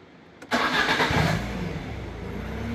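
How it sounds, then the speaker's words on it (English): A Citroen Saxo VTS Cup car engine cranks briefly and fires up close by, then settles into a steady, loud idle with no talking. "Yes, switch on the car."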